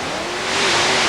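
A Chevy 572-cubic-inch engine on a paddle-tire mud racing vehicle revving hard at an outdoor mud race, a loud, rising, steady roar that builds over about a second.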